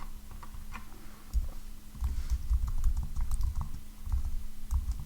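Quick keystrokes tap on a computer keyboard in irregular bursts, close and fairly quiet over a faint steady electrical hum.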